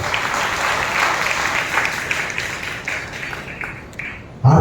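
A church congregation at a Sunday service clapping together, a dense sustained round of applause that thins out slightly before a loud sound cuts in at the end.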